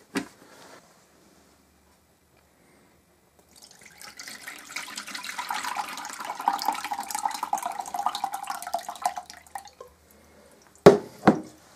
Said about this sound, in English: Here's some dripping noises